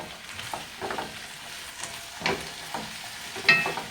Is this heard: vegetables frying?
yes